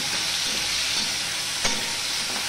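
Spiny gourd and potatoes fry in a pan with a loud, constant sizzle and a brief scrape of stirring partway through, ending abruptly.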